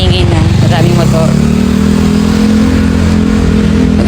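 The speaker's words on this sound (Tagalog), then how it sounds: "Medyo maingay na. Maraming motor." Many motorcycles pass along a busy market street, with a loud, close engine drone and rising revs that fill the whole stretch without a pause.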